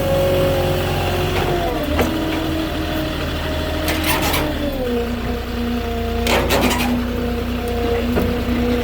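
A Moffett truck-mounted forklift engine runs steadily while the machine maneuvers a load of picket fence panels toward the end of a delivery truck. The drone is close and continuous, with pitch shifts as it works and occasional knocks and clatter.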